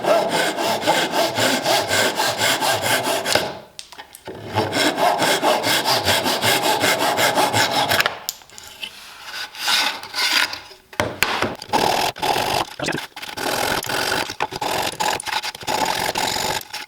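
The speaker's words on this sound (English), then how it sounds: "I'm just going to use my Japanese pole saw to flush cut these guys" A Japanese pole saw flush cuts wood in steady back-and-forth strokes, close and loud, with raspy rhythmic sawing broken by a few brief pauses.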